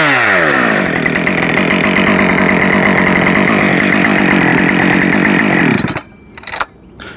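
Husqvarna 562XP Mark II chainsaw running loud and close, a steady high-revving engine roar that cuts off near the end, followed by brief quieter engine bursts.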